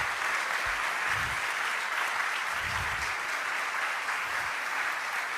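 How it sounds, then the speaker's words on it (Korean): A church congregation applauds during a Sunday worship service, with sustained, even clapping from many hands at steady loudness throughout and no voices over it. "우리 하나님께 영광의 박수를 다시 한번 올려드리겠습니다"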